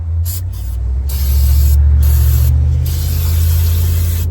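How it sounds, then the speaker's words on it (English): Brake cleaner sprayed in a steady, loud aerosol hiss over the engine of a 2002 Volkswagen Golf Mk4 during an oil change, running continuously with brief dips between bursts. "Just start spraying brake cleaner all the way out there."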